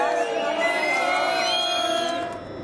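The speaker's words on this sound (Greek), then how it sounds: "Οι πύλες ανοίγουν και ο κόσμος ξέσπα σε χειροκροτήματα." A packed crowd cheers and whoops as the gates open at Venizelou metro station in Thessaloniki. Loud, dense voices fill the short stretch, with excited shouts over the steady roar.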